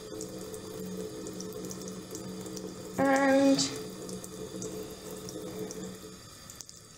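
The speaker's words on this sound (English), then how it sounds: "Rinsing under the water is sufficient." A bathroom tap runs steadily while makeup brushes are rinsed under it, a constant faint splash of water with a brief louder surge of flow partway through.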